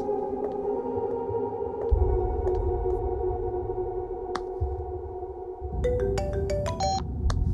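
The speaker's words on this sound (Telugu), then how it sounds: "రాకేష్, నేను ఎప్పటి నుంచి నీకు ఫోన్ ట్రై చేస్తున్నాను." A phone rings in a Telugu movie scene: an electronic ringtone melody of repeated tones plays over low background music, building to a brighter, busier chime pattern near the end, with no talking.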